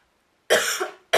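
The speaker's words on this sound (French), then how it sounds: "Excusez-moi si je tousse" A person with a cold and a hoarse voice coughs once close to the microphone, a harsh burst after silence, with the start of a second cough cut off at the end.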